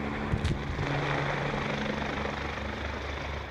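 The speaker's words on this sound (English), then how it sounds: "had to deploy helicopters to dry the fruit" Helicopters hover low over a cherry orchard to dry rain-wet fruit, a loud continuous rotor and engine drone with steady low thumping throughout, heard close and alone.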